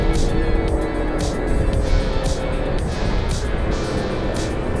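A go-kart lapping a track in a UK kart race, its engine a loud, continuous high buzzing drone that rises and falls gently as it speeds on, close to the listener.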